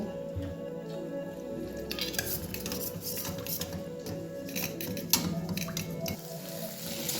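Cornflour is mixed with a little water in a bowl, with light watery splashes, drips and clinks of a spoon against the dish, fairly quiet and uneven.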